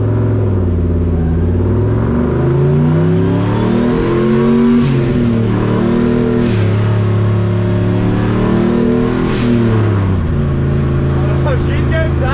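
Chevrolet C10 pickup fitted with a NASCAR engine accelerates hard, a loud, close, continuous roar whose pitch climbs and shifts through several revs over twelve seconds, with a voice talking faintly beneath the engine.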